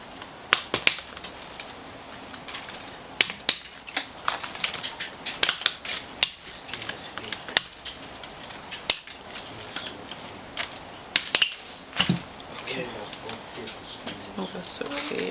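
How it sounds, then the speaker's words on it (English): Sharp scissors snipping through flower stems while trimming a homemade bridal bouquet, a series of crisp, close clicks and snaps spaced irregularly, with a voice talking softly in between. "So I think I'll cut it right here."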